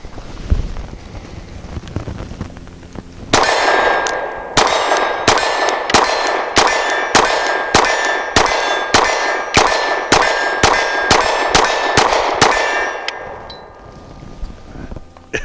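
A Canik TP9 Elite SC pistol fires at steel targets: about sixteen sharp, loud shots in a fast, even string, each followed by a ringing metallic clang from the steel.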